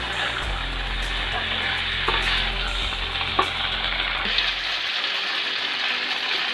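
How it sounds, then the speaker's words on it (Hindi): Restaurant-style chilli chicken with red chilli powder stir-fries in a pan, a steady close sizzle with scattered scraping clicks of stirring over a low hum that stops near the end. "थोड़े देर हमें इसे भून लेना है"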